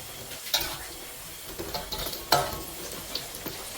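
Tempeh fries in a pan in a home kitchen, a steady crackling sizzle broken by a few sharp stirring scrapes and taps of a utensil against the pan.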